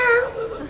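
Children in a choir at a concert in Dąbki imitate a cat meowing: a single short, wavering mew-like vocal cry, close and moderately loud, trailing off quickly.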